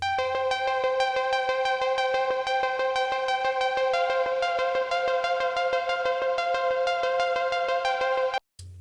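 A bright plucked synth repeats quick, even notes in a steady stream, washed in reverb that smears them into a shimmering sustained haze, cutting off abruptly.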